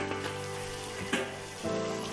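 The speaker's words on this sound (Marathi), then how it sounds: "हा मसाला मी चांगल्या प्रकारे मिक्स करून घेत आहे" Kaleji gravy masala frying and being stirred in a pan, a steady close sizzle running throughout with a couple of brief scraping stirs.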